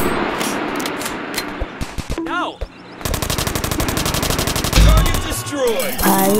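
Rapid automatic gunfire from the video game Dude Theft Wars crackles in dense bursts, with a break near the middle and a heavy booming hit near the end, over busy game sound effects.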